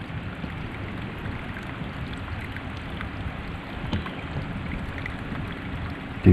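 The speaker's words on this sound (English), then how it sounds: "Hear the stream." A summer forest stream flowing in a park, a soft steady wash of water heard from nearby, continuous and even, with no voices over it.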